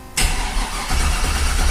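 A warm Chevstang with a turbo 400 transmission fires up: a brief starter crank, then the engine catches and settles into a loud, rumbling idle close by.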